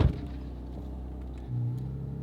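A Porsche 997.2 GT3 RS with a 500 hp Dundon plenum and tune drones low and steady from inside the cabin while driving, with a brief rise in engine tone toward the end.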